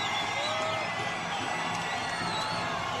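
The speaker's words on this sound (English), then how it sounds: "the crowd loves Gina Carano" A fight crowd cheering for mixed martial artist Gina Carano, a steady wall of shouts and whoops from a large arena audience, loud and continuous without a break.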